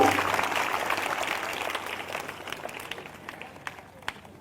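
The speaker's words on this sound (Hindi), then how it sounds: "जिनको समझ में आ गया वो जोरदार ताली बजाकर धन्यवाद दें परमेश्वर को।" A church congregation clapping in thanks to God, loud massed applause that gradually thins into scattered separate claps, with a low steady hum underneath.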